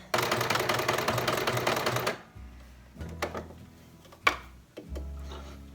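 A sewing machine stitches a hem on fabric, a dense rapid clatter of the needle for about two seconds that stops abruptly, followed by a few quiet clicks and handling knocks.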